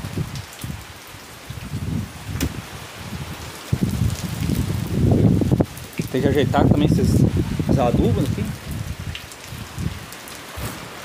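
Steady rain with wind on a farm near stored maize and fertilizer, a broad wash of falling water with gusty rumble, while someone talks over it.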